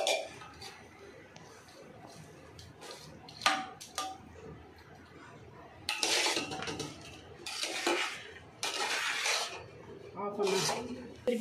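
Meat being stirred with fried onions in a pot for biryani, with scraping and clinking of a metal utensil against the pot in irregular strokes, fairly faint, under a speaking voice.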